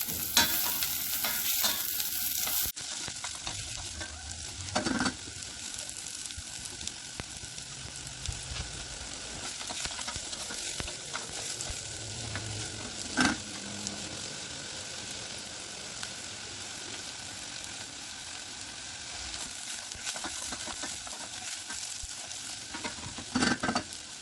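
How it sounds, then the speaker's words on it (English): Onions browning in a pan for a simple pasta sauce, with a steady close sizzle and frying crackle throughout and occasional louder stirring scrapes, and no talking. "browning the onions for me is definitely an essential part of the process"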